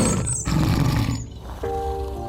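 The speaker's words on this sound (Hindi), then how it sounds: "ये राजा सिंह की आवाज है।" A lion roars in a jungle as a story sound effect, a deep rolling roar that holds for about a second and a half before a sustained tonal wail rises over it, loud and close.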